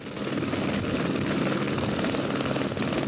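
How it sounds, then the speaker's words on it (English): A medical rescue helicopter flies a patient toward a hospital rooftop landing pad, its rotor and engine making a loud, steady, close drone that fills the whole stretch with no talking. "The pilot and medics load the patient into the helicopter."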